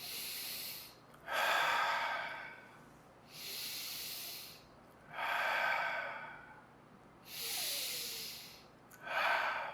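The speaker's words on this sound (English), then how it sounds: "3 deep breaths." Children doing seated chair yoga take three slow, deep breaths, each a soft, airy inhale or exhale swelling and fading in an even rhythm, close and quiet with pauses between.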